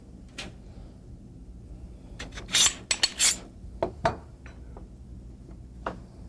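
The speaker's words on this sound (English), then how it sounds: "we're going to have to trim the barrel hood just a little bit so that it'll slide on back in the breech face" A pistol barrel hood being trimmed to fit the breech face, heard as a series of sharp metallic scrapes and clicks in uneven bursts, close and moderately loud, with no talking.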